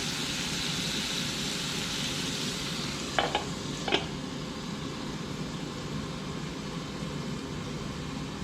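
Chopped onion fries in a cooking pot over low heat, giving a steady, loud hiss of sizzling oil, with two brief scraping stirs partway through.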